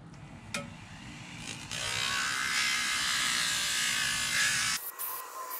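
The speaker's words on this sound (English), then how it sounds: "So let me get my sander on this." An electric sander buzzes against carved wooden fish fins for a white crappie carving, starting after a brief pause, holding a steady close grinding hum for about three seconds, then cutting off.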